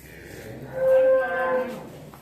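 A cow moos once at a temple in Ariyalur, a long, clear, tonal low moo rising out of quiet surroundings at moderate distance, alone without talk.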